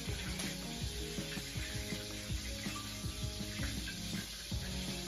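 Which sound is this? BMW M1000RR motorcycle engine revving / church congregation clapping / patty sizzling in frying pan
patty sizzling in frying pan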